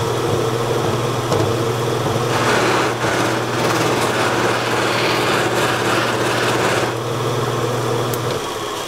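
A woodturning buffing wheel charged with medium compound spins steadily, a loud continuous motor hum and whirring rush that stays level throughout with a brief surge of friction noise in the middle.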